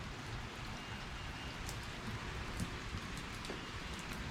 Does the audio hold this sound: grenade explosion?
no